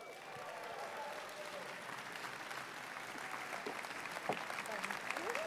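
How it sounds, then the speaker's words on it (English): Sustained applause from a large audience at Politicon 2019, a dense wash of clapping that holds steady and swells slightly toward the end. "Give her a round of applause."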